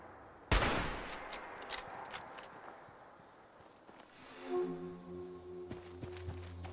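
Gunshots fired through a fence in Fallout 76: one sharp loud crack followed by a scatter of quieter shots and clatter, then a tonal game hum underneath, with no talk.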